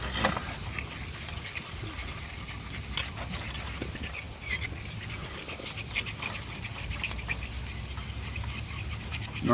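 A utensil scrapes cooked bits off the bottom of a pan, producing a continuous, close, gritty rasp with small irregular scratches and no pauses.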